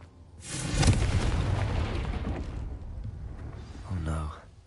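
A Confringo blasting spell explodes in the Hogwarts Legacy video game, a loud close boom that rolls into a long rumbling decay, with a second burst near the end and a voice over it.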